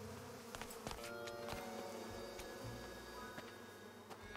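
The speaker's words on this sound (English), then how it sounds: "Looks like a great place to get those bees for Compton." Bees buzzing in the video game Psychonauts, a steady insect drone running throughout with brief clicks and game effects layered over it, no talk.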